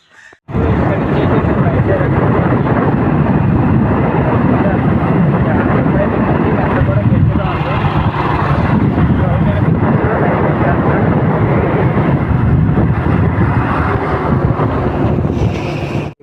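Strong wind buffets the microphone in a steady, loud roar throughout while the speaker travels along a rough, potholed road toward the Goshpada Kshetram pilgrimage site.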